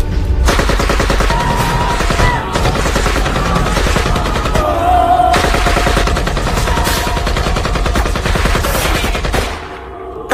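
Sustained gunfire from a film scene, bursts of rapid shots fired at helpless detainees near a container, loud and continuous over a dense music-and-effects mix for most of the stretch.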